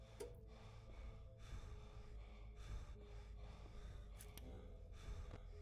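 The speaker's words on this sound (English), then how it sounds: "Why am I heavily breathing?" Heavy, labored breathing plays in a Sister Location custom night horror game: repeated gasping breaths and sharp inhales spaced a second or so apart over a low droning ambience, fairly faint.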